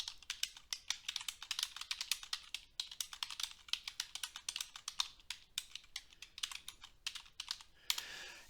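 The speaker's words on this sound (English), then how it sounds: "I'm just going to type exactly what's there." Data being typed into spreadsheet cells on a computer keyboard: a steady, fast stream of crisp key clicks, close and fairly quiet, with a firmer keystroke near the end and no speech.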